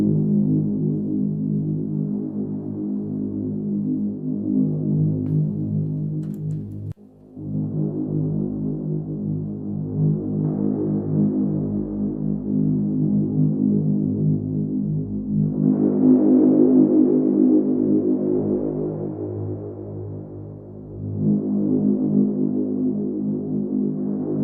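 An evolving synthesizer drone pad made in Ableton hums low and continuously with slow throbbing movement, swelling brighter midway and briefly dipping once, with no voices.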